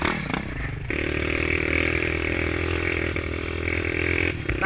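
A Yamaha XT 200 trail motorcycle, reported broken down on a trail ride, idles with a steady buzzing engine drone, preceded by a brief clatter and followed by a rising rev at the end, close by with no speech.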